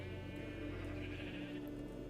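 Sheep bleat faintly in a video game sheep farm, soft repeated calls sitting under a steady humming drone of background music or ambience, with no talking.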